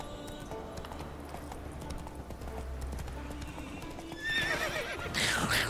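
Horse hooves clip-clop steadily in the Witcher III video game, with a horse neighing loudly near the end over a busy game soundscape.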